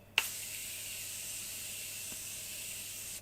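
A single continuous spray of makeup setting spray hisses steadily for about three seconds, starting with a sharp click and cutting off cleanly at the end.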